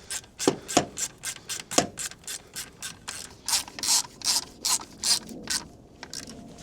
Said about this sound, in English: I'm just gonna put this ring back on.